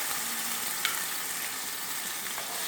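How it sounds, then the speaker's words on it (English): Pork chops searing in hot olive oil with pineapple juice, garlic and parsley flakes: a steady, dense sizzle and crackle of frying throughout, close and even, with a couple of faint clicks. "I'm gonna sear them until they're done"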